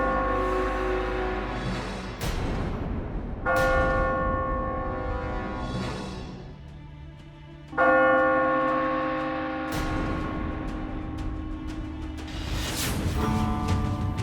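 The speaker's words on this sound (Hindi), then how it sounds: "ये घंटी तो आपातकालीन स्थितियों में ही बजाई जाती है" A large justice bell, rung only in emergencies, sounds with deep, resonant strikes, each tolling note swelling and lingering with rich overtones, loud and close, with no voices.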